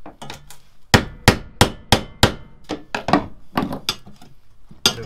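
A chisel is hammered on the body of a VW T5 van: a series of sharp metallic strikes, about a dozen close, loud hits in an uneven rhythm, with no talking.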